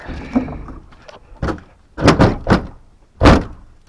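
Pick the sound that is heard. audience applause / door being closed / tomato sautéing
door being closed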